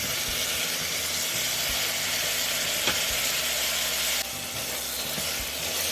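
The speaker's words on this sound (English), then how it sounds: "Fry the tomato till it becomes soft and mashy." Four chopped ripe tomatoes frying in a pan with onion for tomato rice, a loud continuous hiss and sizzle close by, with an occasional stir and a slight drop in intensity near the end.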